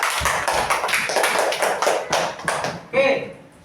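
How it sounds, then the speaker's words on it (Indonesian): A class of pupils claps together, a close, busy burst of many hands that fills nearly three seconds before thinning out, after which a voice is briefly heard. "beri tepuk tangan."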